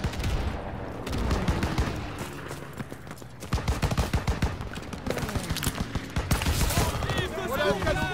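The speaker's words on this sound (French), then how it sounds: "Voilà le canon de DCA." Rapid anti-aircraft cannon fire and dense gunfire in the Call of Duty WWII video game, loud sustained bursts of repeated shots with chaotic battle noise throughout.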